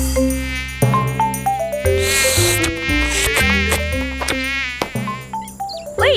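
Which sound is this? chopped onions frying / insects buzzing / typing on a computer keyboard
insects buzzing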